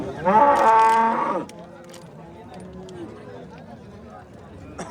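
One loud, close cow moo lasts about a second at a busy cattle market in Oqdaryo, Yangiqurgon, then fades into a low murmur of crowd and distant animal noise.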